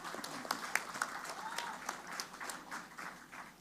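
Scattered applause from a small crowd at Megawati's opening of a mangrove botanical garden in Surabaya, light, uneven claps continuing steadily throughout, with a faint murmur of voices underneath.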